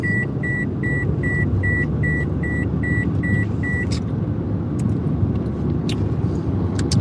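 Car sounds are played with Tactical MIDI: a string of regular, evenly spaced electronic beeps over a steady low rumble like a running engine, then the beeps stop and a few sharp clicks follow over the continuing rumble.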